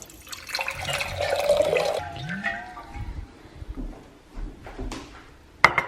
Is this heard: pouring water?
yes